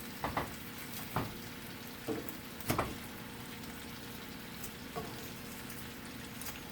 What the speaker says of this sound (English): We're just trying to get it to saute